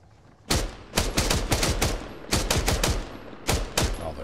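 Bursts of automatic gunfire in the Arma 3 Antistasi video game, several rapid rattling volleys separated by short pauses, sharp and fairly close, without talk.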